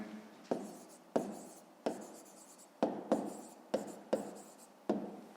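Pen writing by hand on paper while solving a fifth-grade maths exercise: repeated short scratchy strokes in a steady rhythm, close and fairly quiet, with no talking.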